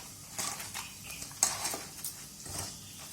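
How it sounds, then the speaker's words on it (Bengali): Food is squeezed and mashed by hand to press out its water, giving soft wet squelches and irregular squishing pats with occasional light knocks against a bowl, close and moderately loud. "আমি এইভাবে চেপে চেপে মাখছি।"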